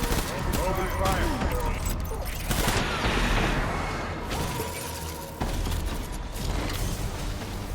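Gunfire erupts in the video game Death Stranding in repeated clustered bursts with sharp cracks and metallic clatter, mixed with voices talking throughout.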